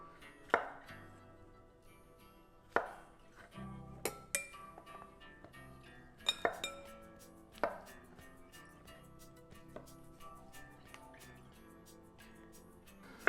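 Knife chopping cremini mushrooms on a board, a handful of sharp, irregularly spaced knocks that are close and crisp against a quiet background.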